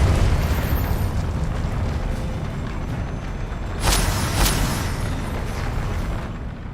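A Confringo blasting spell in the Hogwarts Legacy video game, a loud burst of explosive booms about four seconds in, heard over a steady rumbling game background with no talking.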